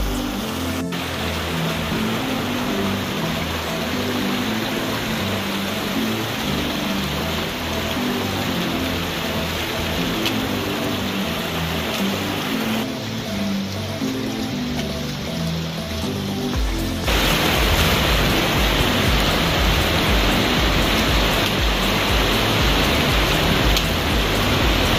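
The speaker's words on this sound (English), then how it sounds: "Can you hear the waterfalls? We're getting closer." Waterfalls inside the Kanarra Falls slot canyon give a steady, dense rush of falling water, like heavy rain, that runs throughout and grows a little louder near the end, with no voices.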